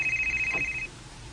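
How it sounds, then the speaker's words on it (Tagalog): A cellphone ringtone sounds as an incoming call arrives, a steady electronic tone holding for just under a second before cutting off, fairly loud against a quiet kitchen background. "Ako cellphone, may nagtawag."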